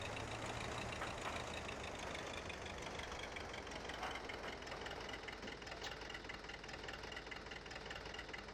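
A tractor engine in Farming Simulator 15 runs steadily at a low, even drone with a faint knocking texture, quiet and unchanging throughout with no voices.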